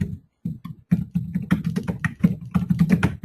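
Quick bursts of typing on a computer keyboard, close and crisp, with irregular clusters of keystrokes separated by short pauses.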